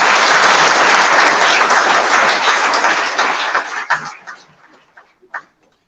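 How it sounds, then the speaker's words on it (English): Audience at a college commencement ceremony breaks into dense, loud applause that holds steady for about four seconds, then thins into scattered claps and fades out. "may I request all of you to give a big applause to this great evening."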